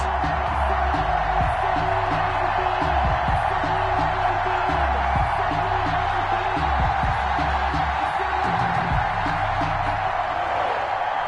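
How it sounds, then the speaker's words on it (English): Steady roar of a sold-out Cincinnati stadium crowd in an NFL video game, cheering and whooping continuously throughout at high level, with faint commentary beneath. "Enthusiasm of this Cincinnati crowd in full effect a moment ago"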